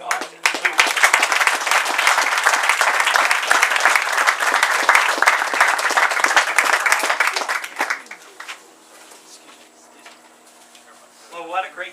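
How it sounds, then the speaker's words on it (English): Loud, dense audience applause at a key ceremony follows a speech, sustained for about eight seconds before cutting off, leaving quiet room noise and a voice starting to talk near the end. "applause for that great speech by Mr. Buck Austin."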